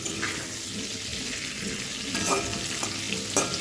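Fish and papaya curry sizzles steadily in a pan, a dense close frying hiss with a few brief louder scrapes of stirring near the end.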